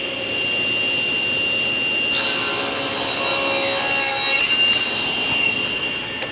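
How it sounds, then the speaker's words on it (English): A table saw mitering the end of a wood test piece, with a steady motor hum followed by a brighter, harsher cutting burst midway through the short cut. "I'm just going to start mitering one end of each one"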